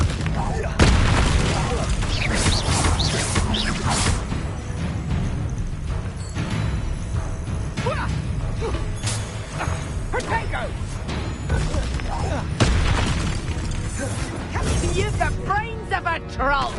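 Confringo blasting spells burst repeatedly in Hogwarts Legacy, with loud booms and sharp cracks scattered through a busy battle, and a voice calling out over the fighting.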